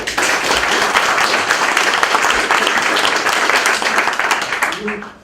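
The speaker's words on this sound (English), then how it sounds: "So give them a round of applause, please." Audience applause at a startup demo day event in Poland, a steady dense wash of clapping from a large crowd that holds strong for several seconds before tapering off at the end.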